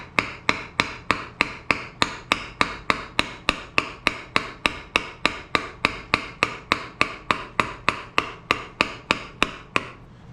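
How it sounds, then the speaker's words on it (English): Steady, evenly spaced hammer taps on a board, about three per second, sharp and close, continuing for the whole stretch with no talking, while lifting a travel trailer. "take a board and a hammer. You can just start tapping"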